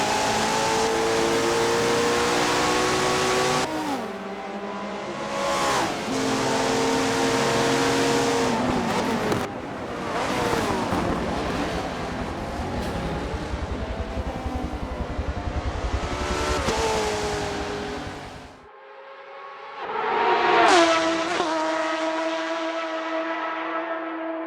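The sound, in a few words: McLaren Senna race car engine in Forza Motorsport 7 video game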